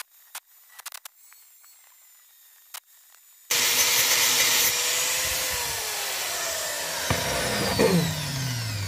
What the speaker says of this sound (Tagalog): So okay, saksak na natin ang ating grinder.